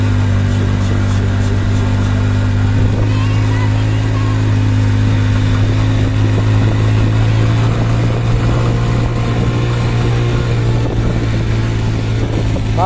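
A motorcycle engine humming steadily while riding a mountain road between Kalimpong and Darjeeling, a loud continuous low drone with wind rush around it, alone with no voices.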